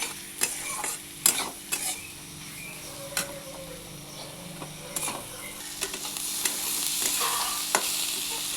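Eggplant and potato are stirred into browned onions for a Bengali fish-oil fry, with a soft continuous sizzle under sharp, irregular spatula scrapes and knocks against the pan, close by and without talk.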